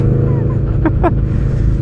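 Indian Scout cruiser motorcycle powering out of corners, a loud close engine drone with rising revs and two quick gear-change surges in the middle.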